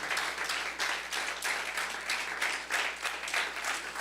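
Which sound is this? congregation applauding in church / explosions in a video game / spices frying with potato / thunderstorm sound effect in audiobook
congregation applauding in church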